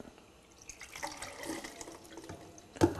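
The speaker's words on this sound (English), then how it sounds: "the next chemical I'm going to add to my tank is stop" Stop bath chemical poured into a black-and-white film developing tank, a short liquid splash and trickle that ends in a sharper burst near the end, close and fairly quiet with no talking.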